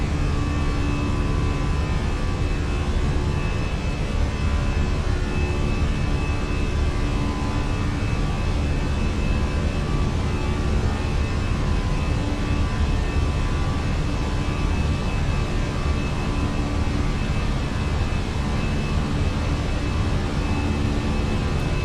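Airliner jet engines at climb throttle in Microsoft Flight Simulator, on an American flight from Portland to Charlotte, giving a steady, loud, continuous roar with a faint whine that holds unchanged throughout, no voices.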